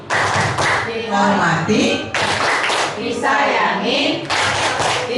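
Teachers in a positive-discipline classroom session perform the 'tepuk guru' clapping chant: bursts of sharp group claps alternate with voices chanting the lines in rhythm, close and loud.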